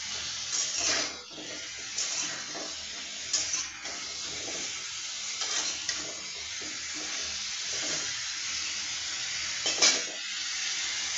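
Hilsa fish frying in a pan, a low continuous sizzle broken every couple of seconds by sharp scraping and clinking of a utensil against the pan as the pieces are turned and lifted, close and moderately loud with no talking.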